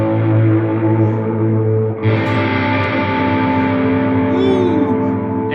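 Electric guitar through an old Hughes and Kettner amp with a cab emulator, a DD5 delay and reverb added: a sustained distorted chord rings on, then a fresh bright strum swells with a wash of echo and a bending note near the end.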